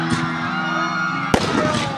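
Fireworks crackle and burst at a New Year celebration, with one sharp loud bang standing out amid excited crowd voices and shouting.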